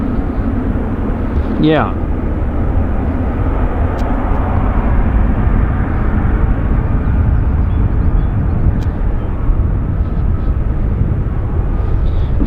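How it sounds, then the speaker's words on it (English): An American Airlines airliner arriving at Vancouver Airport produces a steady, loud roar with a brief rising whine, over constant wind-like rumble and a short spoken word. "we have an American Airlines inbound from Los Angeles"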